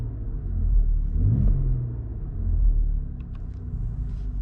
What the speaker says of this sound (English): Now we'll rev it in Efficient.